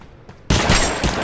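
Sudden loud gunfire in the cartoonish battle royale game Totally Accurate Battlegrounds, a dense rapid burst bursting in after a near-silent moment and continuing to the end.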